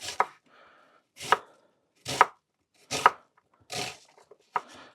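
Onion and vegetables are chopped with a knife on a board in six sharp, separate cuts spaced about a second apart, close and clear against near silence.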